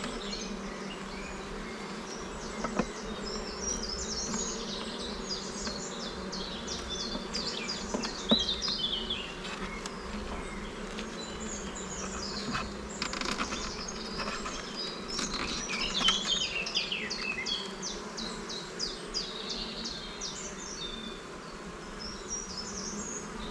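Honey bees buzz steadily around an open hive after an artificial swarm split, a dense, continuous hum with brief individual bees droning close by at moments, with no talking.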